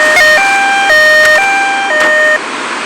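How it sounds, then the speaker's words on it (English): A two-tone electronic siren in a video game alternates steadily between high and low pitches, loud and close, with no voices. "I have no idea how to turn off that siren"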